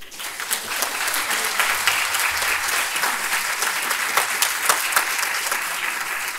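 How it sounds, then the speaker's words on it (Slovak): Audience applause at a Bethlehem evening event, a dense, steady clapping from a large crowd that swells slightly and continues throughout. "Ten potlesk je na úvod pro vás."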